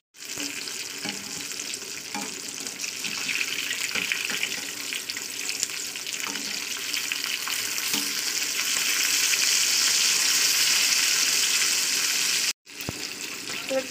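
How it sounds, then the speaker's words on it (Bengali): Fish slide into hot oil in a small wok and fry with a loud, gushing sizzle that builds and stays strong, broken by a brief cut near the end before the hiss resumes. "তো দেখুন আমার তেলটা গরম হয়ে গেছে, আমি এবার মাছগুলোকে একে একে দিয়ে দিচ্ছি"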